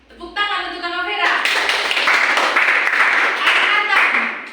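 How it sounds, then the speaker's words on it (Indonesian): A school class claps for a classmate. A voice leads in, then a burst of brisk hand clapping from many students follows and carries on steadily close by, with voices mixed in. "tepuk tangan untuk Kakak Vera"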